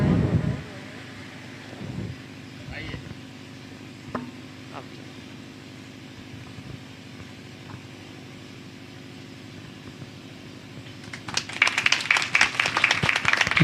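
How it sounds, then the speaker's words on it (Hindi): A live audience breaks into loud, dense clapping at a public honouring ceremony, rising suddenly near the end after a stretch of quiet room noise, with a few brief thumps earlier. "जोरदार तालियां"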